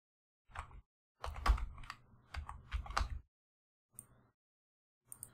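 Typing on a computer keyboard, quick bursts of close key clicks in two clusters followed by a couple of single isolated taps, with quiet gaps between and no talking.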